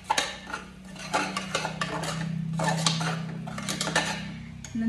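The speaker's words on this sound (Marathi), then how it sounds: "चांगलं मिक्स करायचं हे वाटण त्या तिखटामध्ये" Ground masala paste is mixed into chili powder for a Konkan village dish, with repeated scraping and clinking of a spoon against a metal pot over a steady low background hum.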